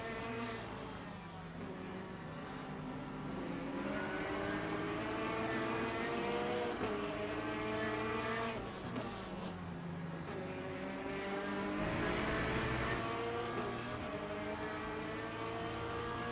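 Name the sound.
race cars in video game Le Mans Ultimate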